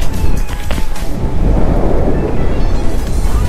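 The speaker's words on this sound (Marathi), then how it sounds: "पाऊस येतोय आता" Heavy rain and gusting wind sweep in at a farmhouse in Vasai-Virar near Mumbai, with thunder rumbling beneath. The close, loud roar is steady and unbroken, and wind buffets the microphone throughout.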